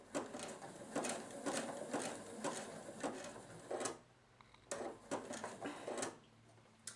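A sewing machine stitches a corded fabric bowl, running in short rhythmic bursts of rapid clattering stitches with a brief pause partway through, close and fairly quiet.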